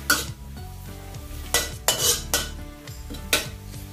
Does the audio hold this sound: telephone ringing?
no